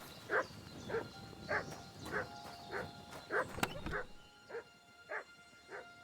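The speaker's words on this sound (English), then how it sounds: "What are you barking at anyway?" A dog in the video game Kingdom Come: Deliverance 2 barks repeatedly at a steady pace, about ten close, clear woofs spaced under a second apart.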